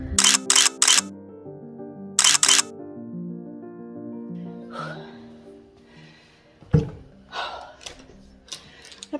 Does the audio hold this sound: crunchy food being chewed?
no